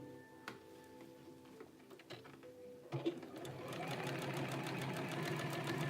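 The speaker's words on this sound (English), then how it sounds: "So right now I'm just sewing on the neck band." A sewing machine stitches a neck band onto a garment, with faint scattered taps at first and then the motor whirring in a fast, continuous rattle for the last few seconds.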